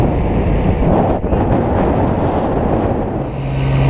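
Strong gusty wind roars across the microphone outdoors in Aguadilla, Puerto Rico, during recovery work. It stays loud and continuous with a brief dip midway and swells again toward the end, and no one speaks.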